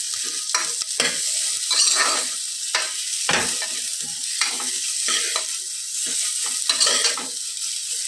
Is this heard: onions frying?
yes